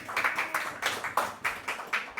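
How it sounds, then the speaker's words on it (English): Applause for an author at a book launch conversation: a short run of about nine crisp, rhythmic claps at moderate loudness in a room, with no talking over them. "just a round of applause for the author"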